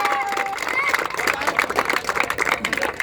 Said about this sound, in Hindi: तो जो लोग जीते हैं उनके लिए एक बार तालियां बजा दिया जाए जोरदार।